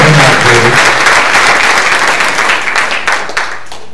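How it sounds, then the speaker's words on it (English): A loud burst of audience applause fills the hall during a motivational talk, dense clapping that holds steady and then thins toward the end. "Give them a big clap."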